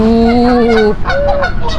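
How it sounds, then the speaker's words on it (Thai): Loud, close honking calls from waterfowl, a long drawn-out cry followed by shorter squabbling honks. "เป็ดทะเลาะกัน"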